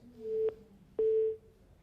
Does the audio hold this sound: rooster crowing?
no